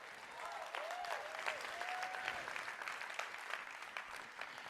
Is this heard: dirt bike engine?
no